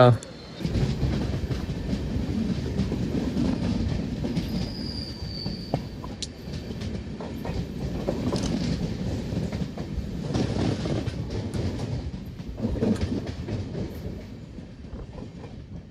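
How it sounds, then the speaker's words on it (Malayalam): Trains rolling through Thiruvalla railway station on a rainy day, heard from inside a moving train, a steady rumble of wheels with rail clatter and a brief squeal, while a person talks over it. "ഇവിടേക്ക് ഇപ്പോൾ കൊല്ലം വിശാഖപട്ടണം വീക്കിലി എക്സ്പ്രസ് വരുവേ"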